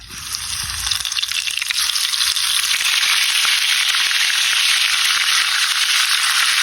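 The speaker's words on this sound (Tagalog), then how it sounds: "Matapos natin ma-breadings, tara, mag-fried na tayo." Breaded crablets deep frying in hot oil give a loud, steady, dense sizzle that swells after the first second and then holds close and constant with no voices.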